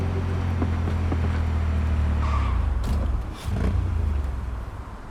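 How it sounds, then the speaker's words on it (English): A motorbike engine in the Cyberpunk 2077 video game, sounding as if it cannot get into gear, gives a steady low rumble that drops away briefly and then resumes more faintly. "I feel like my motorbike can't get into gear. It doesn't sound right."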